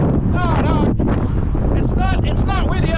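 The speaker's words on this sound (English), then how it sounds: "Oh my god, it's windy." Strong gusts batter a microphone with heavy low rumbling buffets on a windy walk across the Pie-IX Street bridge from Laval to Montreal, while a person talks loudly through it.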